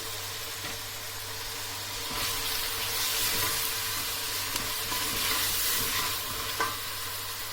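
Biber salçası (red pepper paste) frying with onions in a pan, with a steady close sizzle and occasional stirring, no voices.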